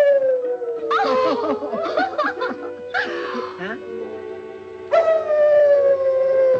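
Blue Boy, a show-winning collie, howls in long wavering pitched cries, loud and close, with a brief spoken word and chuckling mixed in.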